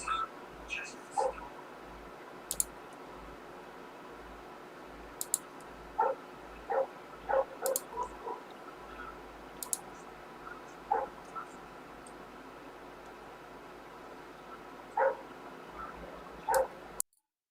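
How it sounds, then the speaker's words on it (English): Dog barking in a back garden, heard as scattered faint distant yips and barks repeating irregularly over steady background hum, with no talk over them. "that is the dog that is in my back garden that will get murdered shortly"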